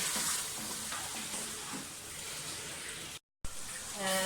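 Tomatoes and spices frying in a pan for a spicy pea and potato pulao, a continuous close sizzle with light stirring scrapes, broken by a brief cut of silence before the sizzling resumes.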